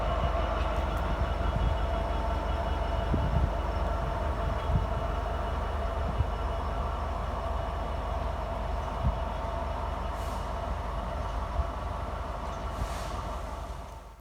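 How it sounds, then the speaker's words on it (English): A model GBRF Class 66 locomotive hauling a rake of ballast hoppers produces a steady low rumble with faint clicking of wheels over rail joints, continuous and moderately close. "this time a GBRF Class 66. It does have a name, but I don't know what it is. But this is pulling in a rake of ballast hoppers"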